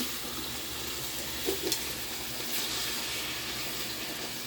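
Ground meat browning in hot oil in a pan, a steady soft sizzle and crackle with a brief scrape of stirring partway through.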